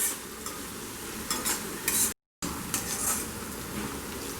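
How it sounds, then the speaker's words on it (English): Steady sizzling of onions frying in a pan, with occasional stirring scrapes; a brief dropout of silence midway. "It is 2 minutes that we are frying the onions."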